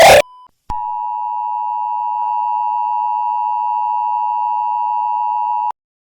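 An Emergency Alert System attention tone sounds as a loud, steady electronic beep held for about five seconds, preceded by a brief burst of noise and a short blip.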